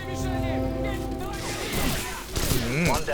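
Gunfire in Call of Duty 4: Modern Warfare, rapid bursts of shots and impacts layered under game music and effects, with a voice talking over the action.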